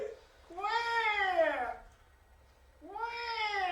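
A person vocally imitates a blue bird's call in two drawn-out, cat-like meow cries separated by a short pause, loud and close.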